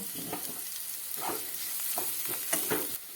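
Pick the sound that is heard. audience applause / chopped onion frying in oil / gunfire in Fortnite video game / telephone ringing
chopped onion frying in oil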